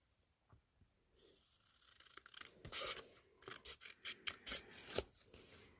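Scissors snip close-up through a rubber stamp, a few faint cuts at first, then a quick run of sharp, crisp snips that gets louder toward the end.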